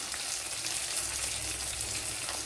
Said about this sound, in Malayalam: നമ്മുടെ വെളുത്തുള്ളി ഇഞ്ചി മുളകൊക്കെ ഇവിടെ മൂത്ത് വന്നിട്ടുണ്ട്